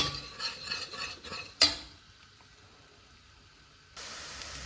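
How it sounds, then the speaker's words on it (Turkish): Onion, green onion, carrot, green pepper and flour being sautéed in a pan for fish soup, rhythmic stirring scrapes and a sharp clink, then a quiet stretch before a soft steady sizzle returns. "karışımımızı yani normal soğan, yeşil soğan, havuç, yeşil biber malzemelerimizi kavurmaya devam ediyoruz"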